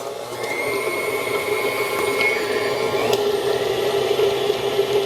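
Electric mixer beating lemon ricotta muffin batter until light and fluffy, a steady close whirring motor hum with faint rattling of beaters against the bowl, no talk.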